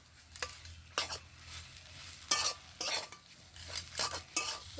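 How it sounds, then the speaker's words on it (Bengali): Spiced potato filling for Mughlai paratha is stirred in a pan, a utensil scraping and clinking against the metal in irregular bursts over a faint, steady sizzle, close and alone with no talk. "আবারও নেড়ে চেড়ে ভালো করে একটু মিশিয়ে নেব।"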